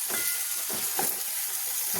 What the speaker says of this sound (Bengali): বেগুন কাটা হয়ে গেছে, এবার ভাজবো তো।